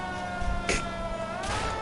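An ambulance siren from the L.A. Noire video game wails steadily over engine drone, with a sharper rising burst near the middle and another toward the end, fairly loud and close with no talk.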